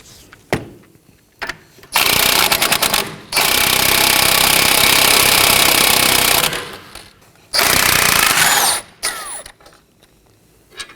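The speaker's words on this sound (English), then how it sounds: "remove the nut using a 18mm on an impact wrench" An impact wrench with an 18mm socket rattles loudly in three bursts, the longest about three seconds, while removing a front sway bar link nut on a 2015–2023 Nissan Maxima; faint clicks and handling noises fill the gaps.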